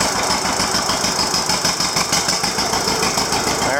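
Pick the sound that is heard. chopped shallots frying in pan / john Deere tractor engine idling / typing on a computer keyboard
john Deere tractor engine idling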